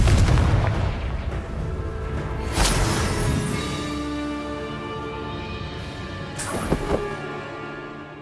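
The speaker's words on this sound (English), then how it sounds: "Confringo!" Confringo spell explosions in the video game Hogwarts Legacy, two sharp booming blasts several seconds apart, each trailing off in a resonant ringing decay over a rumbling game soundscape, with no voices.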